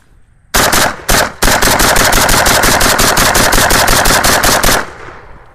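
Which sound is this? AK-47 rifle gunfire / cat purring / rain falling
AK-47 rifle gunfire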